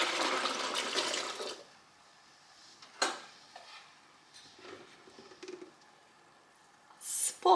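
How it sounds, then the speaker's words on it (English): Whey from homemade goat milk Monterey Jack curds pours off in a splashing rush at the start, followed by quiet kitchen clinks and light knocks of a pot and utensils. "I'm gonna pour about 1 liter of this whey off."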